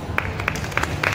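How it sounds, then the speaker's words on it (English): A handful of scattered claps ring out at the Shang By Design exhibition event, a few sharp hand strikes spaced unevenly over a low background murmur. "these women deserve a big, big round of applause"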